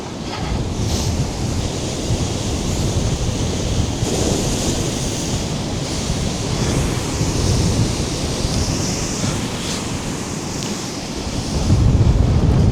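Storm waves surge and crash against shoreline ice on Lake Erie in December, a loud, continuous roar mixed with heavy wind buffeting the microphone and a stronger surge near the end.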